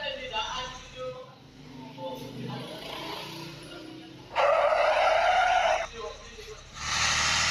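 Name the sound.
bus skidding out of control in a bus simulator video game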